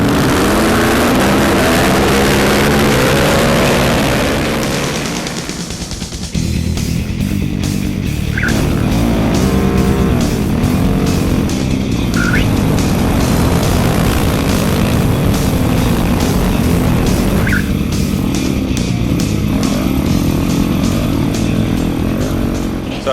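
Rally motorcycles roar off from a mass start, a loud, continuous engine drone with a short dip before the revs climb again, then sustained close racing noise.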